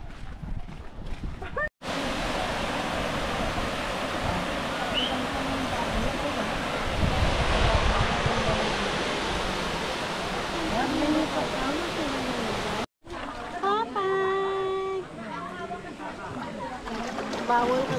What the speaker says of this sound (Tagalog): We're in Bolinao Falls.